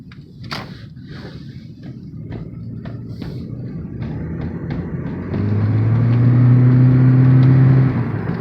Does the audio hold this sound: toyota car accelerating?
yes